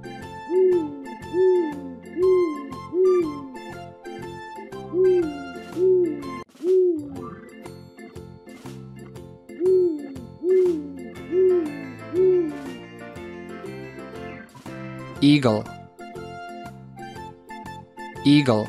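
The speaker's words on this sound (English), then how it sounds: "Owl." A cartoon owl hoots in a regular repeating rhythm, each call a short bright two-part hoot, loud and close. It gives way to a brief different tone near the end.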